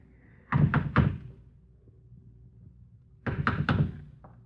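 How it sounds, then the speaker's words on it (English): Two quick sets of three firm knocks land on a wooden house door, separated by a couple of seconds of quiet room tone, with a lighter single tap at the end. "Go ahead, knock."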